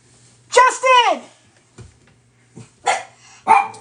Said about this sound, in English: I know they're going to bark